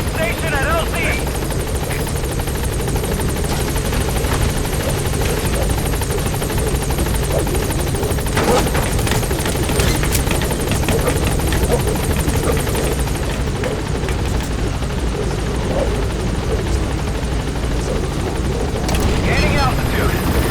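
In the Metal Gear Solid V video game, a support helicopter arrives at a landing zone. Its rotor and engine roar loud and steady throughout, with radio-style voices speaking over the noise.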